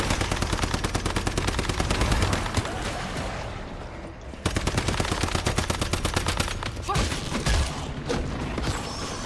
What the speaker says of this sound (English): Okay, so these are like tracking bullets.